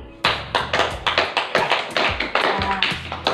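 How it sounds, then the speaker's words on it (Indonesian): Applause for a student group after their classroom presentation: a short burst of several people clapping close by in an irregular, lively rhythm that carries on for about three seconds. "kita berikan tepuk tangan dulu untuk kelompok 1 yang sudah presentasi"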